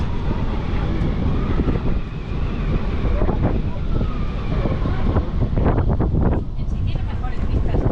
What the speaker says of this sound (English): But it is quieter, but you still hear the city, which is really cool.